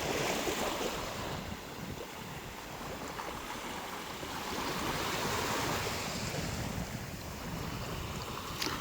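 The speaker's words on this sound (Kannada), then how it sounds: "ಅಲೆಗಳ ಶಬ್ದ" Morning sea waves wash onto a Lakshadweep shore in a continuous, rolling surf roar with gusty wind buffeting the microphone, loud and steady throughout, no one speaking.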